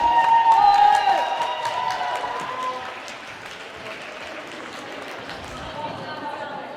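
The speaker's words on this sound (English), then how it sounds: "let's cheer for both Zurich and Kallio who For played a great game." A crowd applauds and cheers for both teams, Zurich and Kallio, at the end of a game; the broad, steady roar starts loud and then settles into sustained clapping, with a voice speaking over it at the start.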